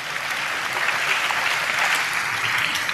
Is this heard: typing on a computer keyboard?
no